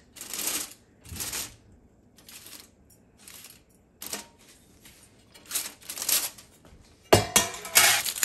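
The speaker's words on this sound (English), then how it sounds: "Carefully remove the foil." Aluminium foil is peeled and crumpled off a hot pot of chicken kheema pulao, producing close crinkling rustles in short separate bursts with quiet gaps, the loudest crackling at the end.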